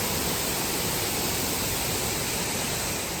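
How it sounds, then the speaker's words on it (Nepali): Man-made waterfall among artificial rocks at a Singapore bird park, a steady, dense rush of falling water filling the scene at close range with no voices. "यो चाहिँ एउटा नेचुरल नभएर चाहिँ मानव निर्मित एउटा झरना हो"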